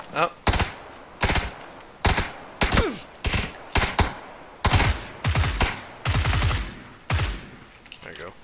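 Repeated close gunshots from PUBG: Battlegrounds fire at a steady, deliberate pace, roughly one or two loud cracks per second across the whole stretch.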